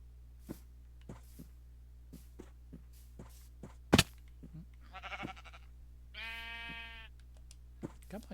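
A Minecraft sheep bleats a few times with a wavering, nasal cry, alongside scattered sharp clicks and knocks and one loud thump, no voices.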